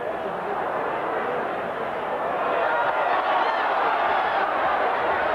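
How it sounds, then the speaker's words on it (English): A large rugby league crowd roars in support of Wigan at a Wigan versus Salford match, a steady broad swell of distant cheering that grows slightly louder, with commentary talk over it. "The crowd getting behind this Wigan side now."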